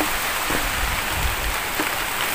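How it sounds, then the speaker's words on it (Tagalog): Steady rain falls on surrounding surfaces outdoors, a continuous soft hiss with scattered drops and no voices. "Ayun ang ulan."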